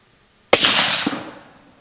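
A single loud, sharp rifle shot from a .280 Ackley firing a 145-grain Barnes LRX load, cracking suddenly out of near silence and trailing off in a rolling echo over the next second.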